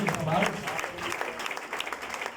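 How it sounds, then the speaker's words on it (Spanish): A church congregation applauds during a Sunday school service, a steady wash of clapping from many hands with voices mixed in. "¿Qué tal si le brindamos un aplauso,"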